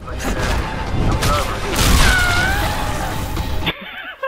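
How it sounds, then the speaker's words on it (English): Explosion blowing up a bridge in Dead Island: Riptide, a loud, rumbling blast with crashing debris that builds and rolls on for a few seconds before cutting off sharply, followed by a brief thump. "I heard the explosion. You blew the damn bridge?"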